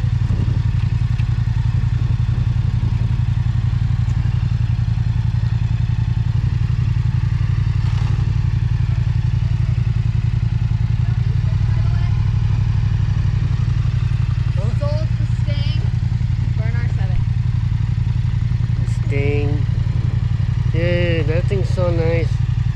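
A Yamaha R7 700cc motorcycle idling nearby, a steady low engine rumble that runs through the whole stretch while people chat over it.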